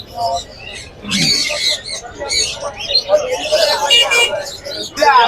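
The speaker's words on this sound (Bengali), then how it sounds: "অনেক সুন্দর সুন্দর জাবা দেখা যাচ্ছে, অনেক পাখি আছে এখানে ভাইয়ের কাছে" Many caged birds chirp and tweet at a busy market stall selling birds such as lories, with bright overlapping calls throughout and a voice talking underneath.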